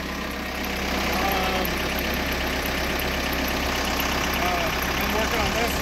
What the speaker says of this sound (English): What are you doing with the tractor?